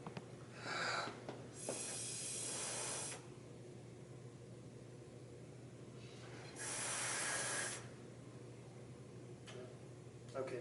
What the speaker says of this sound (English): I can blow out a light bulb with my breath, with a straw